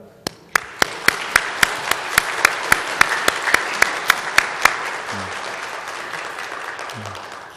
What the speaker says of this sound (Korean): 우리 식구님들이 뜨거운 박수로 우리가 격려해 주시면 좋겠습니다